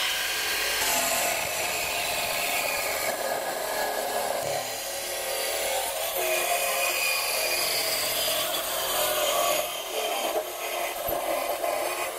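A wooden panel is cut by hand with a saw, producing repeated rasping back-and-forth strokes that continue steadily at close range with short pauses.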